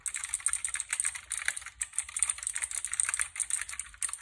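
Fast, close typing on a Redragon K552 mechanical keyboard with Cherry MX Blue switches produces a continuous stream of crisp, clicky keystrokes with no talking.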